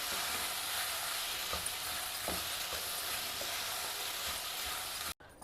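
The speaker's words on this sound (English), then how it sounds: "Now add this rice. And mix everything very well together." Cooked rice is stirred into a lemon rice seasoning in a pan, giving a soft, even sizzle and scraping hiss with a few faint spoon taps before it cuts off abruptly near the end.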